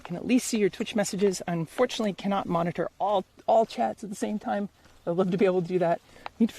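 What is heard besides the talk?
No distinct noise like a dog, phone or traffic.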